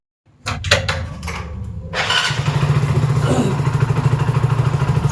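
Motorcycle starting up, with a few clattering clicks before the engine catches and settles into a steady, close, rhythmic idle.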